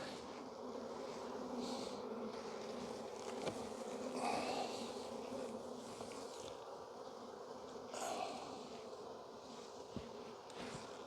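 Honeybees buzz at an open hive in early spring, a dense, continuous drone with a few individual bees passing close by.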